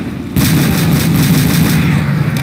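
Sustained, rapid gunfire from a weapon in Call of Duty: World at War zombies mode, loud and close, bursting in after a brief quiet start and rattling continuously to the end.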